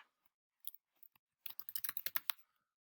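Typing on a computer keyboard: a few scattered keystrokes, then a quick, dense burst of sharp clicking taps, close and fairly quiet, with no voice.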